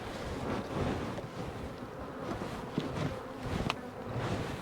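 Bees buzz around open honey hives outdoors, a soft continuous hum of many insects under steady wind noise, with no talking.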